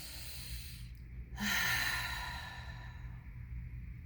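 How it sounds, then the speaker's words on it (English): One slow, audible breath, drawn in and let out like a sigh, close and soft against a quiet background hum. "just taking that deep breath"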